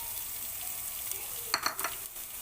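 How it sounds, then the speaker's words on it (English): Chopped onion sautés quietly in a pan for sorpotel, a faint soft sizzle broken by a few light scrapes and clinks of stirring. "just saute the onion until it gets translucent or brown"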